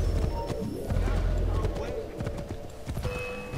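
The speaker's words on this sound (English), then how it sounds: "I ride this horse right in there." Rapid clip-clop of a galloping horse in Assassin's Creed III, hooves drumming steadily and close throughout, with a neigh and game sounds mixed in.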